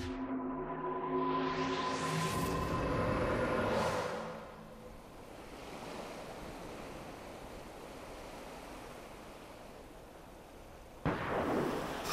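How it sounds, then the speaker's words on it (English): A sharp burst of loud, broadband blasts and rumbling for a few seconds, fading into a steady noisy wash, then another abrupt crack near the end; gunfire and explosions in Final Fantasy XIV. "Gunfire?"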